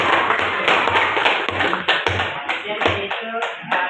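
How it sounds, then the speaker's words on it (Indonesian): Applause from a classroom group during a micro-teaching session, a few seconds of quick, close clapping and tapping in an irregular rhythm, with voices heard alongside. "Oke, kasih aplaus"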